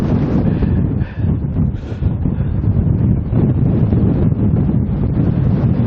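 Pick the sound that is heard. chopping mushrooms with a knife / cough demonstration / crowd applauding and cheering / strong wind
strong wind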